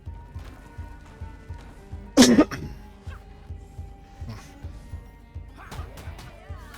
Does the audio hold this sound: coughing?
yes